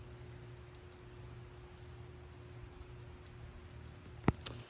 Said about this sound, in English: The rain's calming down a little bit.